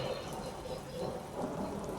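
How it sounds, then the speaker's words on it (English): Rain-and-thunder sound effects playing in the background: a steady soft hiss of rain with a low rolling rumble of thunder, faint and continuous with no talking. "Thunder sound just went off in the rain sound effects that I have going on right now"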